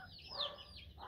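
A leaper hen, a chicken, gives a brief soft cluck, faint and close against a low background hum.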